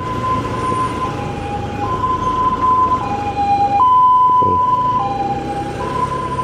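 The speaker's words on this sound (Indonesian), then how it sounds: "Ada suara ambulan ya." An ambulance siren wails steadily in a two-tone pattern, loud and continuous over traffic rumble, heard from a motorcycle on a long-distance road trip in Indonesia.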